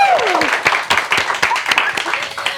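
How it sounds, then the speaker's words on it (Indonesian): Studio audience applause during an Indonesian talk show taping, dense and steady clapping with scattered sharper claps, fairly loud and close throughout. "Kita ulangi sekali lagi tepuk tangannya."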